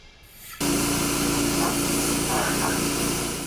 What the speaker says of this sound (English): That's the sound of gallon after gallon of used cooking oil getting pumped out of a truck